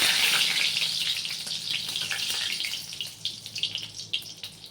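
Hot oil sizzles and crackles loudly as a red chili and curry leaves are dropped in, the hiss gradually settling into softer spits and pops.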